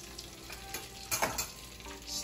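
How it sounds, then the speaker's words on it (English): Soft, steady sizzling of stuffed squid frying in hot oil, with light crackles and a brief stir, quiet and close. "this is my last calamari finished frying"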